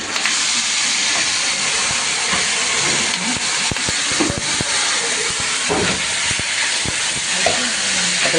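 A ground spice paste fries in a pan for Khandeshi shev latpat curry, giving a loud, steady hiss and sizzle with scattered clicks and scrapes of stirring.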